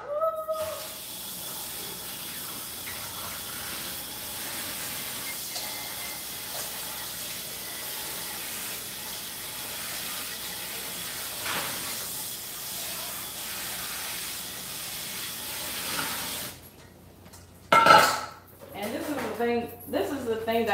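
A pot being rinsed under a running tap, with a steady hiss of flowing water for about sixteen seconds before it cuts off, after which a person speaks.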